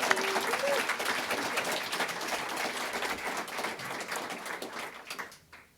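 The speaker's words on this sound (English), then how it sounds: "please join me in giving a very well-deserved round of applause to our entire planning committee" Audience applause for a planning committee at an event on human trafficking and sexual exploitation, a steady crowd clapping that holds for several seconds and then fades out near the end.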